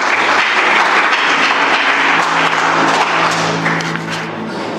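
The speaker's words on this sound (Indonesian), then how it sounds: "Tepuk tangan nanggung." A church congregation breaks into loud, dense clapping that holds steady for several seconds under a sustained low organ or keyboard tone, tapering slightly at the end.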